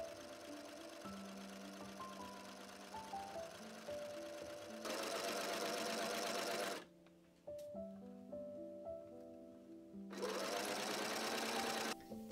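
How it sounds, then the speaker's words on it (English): A sewing machine stitching dress sleeves runs in two steady motorized bursts of rapid stitching, separated by a short pause, over quiet background music. "I stitched up the inside of the sleeves and then attached them to the dress."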